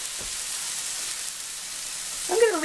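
Steady, quiet sizzling of meat searing in a hot pan, with a brief clatter near the end.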